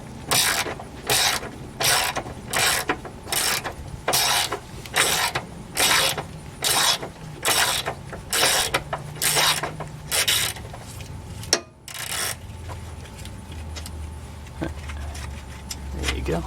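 A ratchet works loose an oil pan bolt on a 2011 Subaru Impreza, with a rapid run of sharp, loud clicking bursts in a steady rhythm that ends in a clunk and a low rumble, with some talk nearby.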